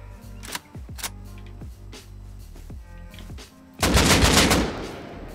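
AK rifle fire in the Rust console game rings out as several sharp single shots with short echoing tails, then a loud rapid burst of automatic gunfire close by.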